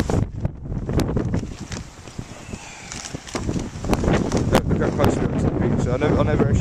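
Strong, cold wind buffets the microphone at a campsite in heavy, rumbling gusts that swell and ease, with broadband roar throughout and scattered clicks and knocks over it.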